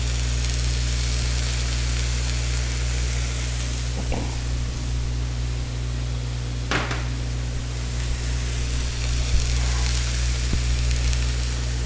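Steak sliders sizzle steadily on a hot griddle in a kitchen, a continuous close crackle with a low hum beneath and a few faint clinks and scrapes.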